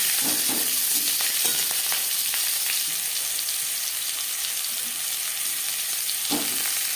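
Freshly cut, washed new potatoes fry in refined oil with a steady, loud broadband sizzle, broken by a few stirring scrapes near the start and end.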